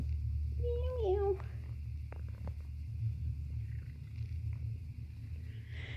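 A cat gives a short rising meow, then low purring and rumbling continue faintly beneath a steady indoor hum.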